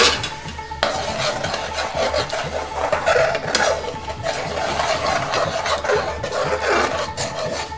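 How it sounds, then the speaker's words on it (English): A ladle of Bangladeshi gravy hits a hot curry pan where the oil has separated, setting off a loud, sustained sizzle with rough scraping as it is stirred, continuing steadily without pause. "So we'll go our first ladle Bangladeshi gravy."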